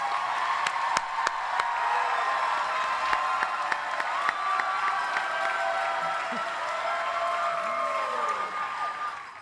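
A large graduation convocation crowd breaks into sustained applause, dense clapping with cheers and whoops rising over it, holding strong for several seconds before easing slightly at the end.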